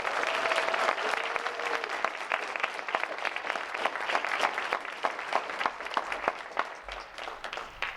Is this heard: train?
no